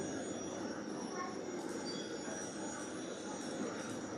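A model train runs on a club layout, a steady continuous rumble of wheels on track with faint squealing throughout, close and even in level with no clear speech.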